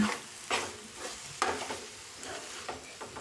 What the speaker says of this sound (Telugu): ఇప్పుడు మనం కలుపుతూ ఉంటాం కాబట్టి అడగంటుకోదండి